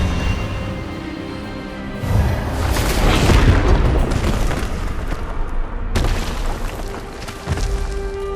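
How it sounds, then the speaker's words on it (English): Expelliarmus spell effect in the video game Hogwarts Legacy: a heavy booming blast swells and rumbles for several seconds, cuts off abruptly, then a second loud burst follows. "Expelliarmus!"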